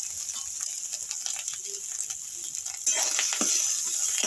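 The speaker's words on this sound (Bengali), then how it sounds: "দিয়ে দিচ্ছি একটু সর্ষের তেল, দিয়ে আমি নারকেলটা ভেজে নিচ্ছি।" Chopped coconut sizzles and crackles in hot mustard oil, a soft steady frying hiss that grows louder and brighter partway through as stirring begins.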